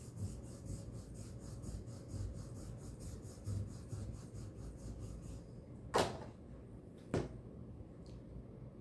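A chisel drawn across a Flexcut slip strop loaded with compound gives soft, quiet, repeated rasping strokes in an even rhythm, followed by two sharp knocks near the end.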